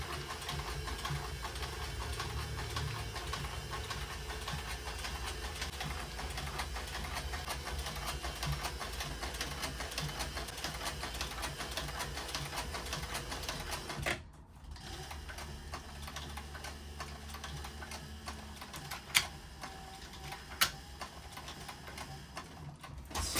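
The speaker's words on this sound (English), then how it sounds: "We're going to flip it over and we are going to stitch the back side." A sewing machine stitches the back side of a cheetah-print rockabilly vest, running in a steady, close mechanical whir for about fourteen seconds. It stops abruptly, and a few isolated ticks and clicks follow.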